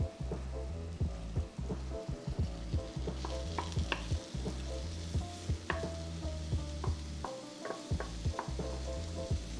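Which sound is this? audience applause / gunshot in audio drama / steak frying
steak frying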